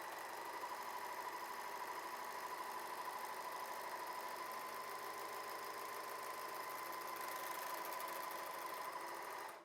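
A W6 N 454D overlock sewing machine running rolled hems, a steady, even mechanical whir with a fast needle rattle, held at a constant speed throughout before stopping abruptly.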